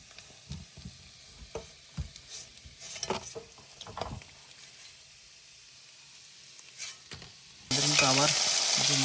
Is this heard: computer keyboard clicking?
no